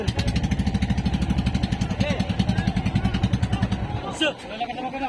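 A fishing boat engine chugs close by in a fast, steady pulsing rhythm, with voices talking over it.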